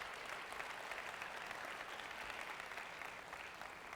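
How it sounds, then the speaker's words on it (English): An audience applauds at a business summit, a steady wash of many hands clapping together, sounding distant and faint throughout. "I think deserves a round of applause"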